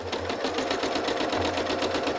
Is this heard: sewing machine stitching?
yes